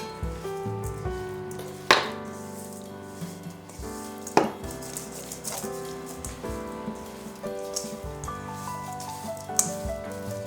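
Meat being shaken and tossed to coat it in seasoning for jambalaya, a close, continuous series of rattling, squishing knocks with a few sharper thumps.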